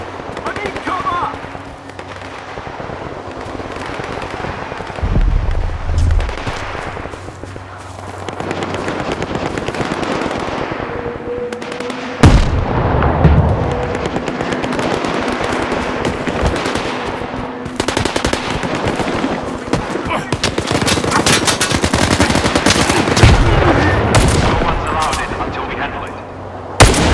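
Heavy gunfire in S.T.A.L.K.E.R. 2: Heart of Chornobyl during a fight in Pripyat, with sustained automatic bursts and booming shots that keep going nearly nonstop, loud and dense, as characters shout in between.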